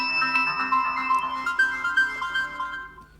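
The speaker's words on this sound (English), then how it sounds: "and the phone started ringing" A phone ringtone set off by the Find Phone feature on a COROS Pace 3 watch plays as a bright, repeating electronic melody with pulsing rhythmic notes, fairly quiet, fading slightly toward the end.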